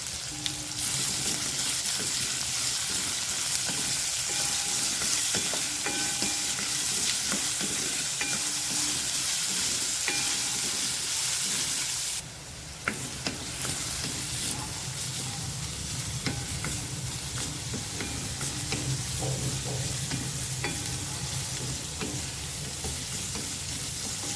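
Two medium sliced onions hit hot oil with browned garlic cloves, frying with a steady, loud crackling sizzle and occasional stirring scrapes; a brief dip midway, then the frying continues evenly, no talking.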